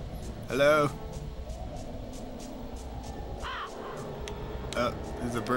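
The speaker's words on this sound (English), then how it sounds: "There's a bird somewhere." A bird gives a few short, raspy calls in the Harry Potter and the Chamber of Secrets PS1 video game, spaced out against low game ambience while a person talks in the background.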